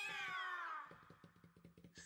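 A cat meows in the video game Banshee's Last Cry: a long drawn-out falling meow, then a quick series of short chirpy mews and a final meow, close and fairly loud.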